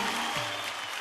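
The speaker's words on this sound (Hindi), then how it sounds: "जोरदार तालियां हो जाए।" A studio audience on a televised dance show gives loud, dense applause after a dance performance, a brief burst with no talking.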